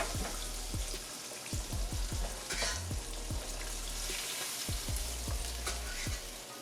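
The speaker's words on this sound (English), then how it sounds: "Let them fry for about another 2 to 3 minutes." Fish frying in hot oil for a St. Louis-style fish dinner, a steady loud sizzle and crackle running throughout with frequent sharp pops and spatters.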